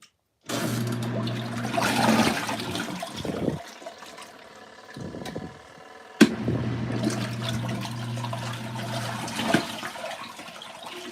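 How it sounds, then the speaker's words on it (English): Water rushes and sloshes as a washing machine rinses a handmade shirt. A steady churning flow briefly dips, then surges again with a sharp knock and continues trickling. "We're on the rinse now."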